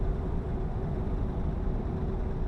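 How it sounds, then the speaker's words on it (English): A truck engine in Euro Truck Simulator 2 with the ProMods map mod drones steadily, a low rumbling hum with a faint tonal whine, continuous and fairly loud with no talk. "Definitely an unmistakable engine sound."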